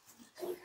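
A young goat kid bleats once, calling for its mother outdoors on a small farm, a short nasal cry near the microphone after a faint quieter lead-in.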